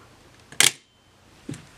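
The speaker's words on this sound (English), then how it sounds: "I'm going to show you guys the shutter so you can watch it." A Mamiya ZE 35mm film camera fires its shutter with a sharp mechanical snap, followed a moment later by a softer second click and another brief click at the end, close and alone in a quiet room.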